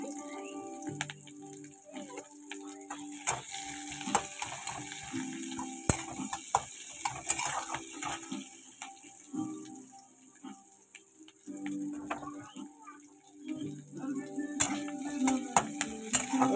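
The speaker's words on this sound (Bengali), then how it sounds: "এবার এই যে পেঁয়াজটা দিয়ে দিচ্ছি" Onion frying in spiced oil in a pan, a steady close crackling sizzle with scattered clicks and scrapes from stirring throughout.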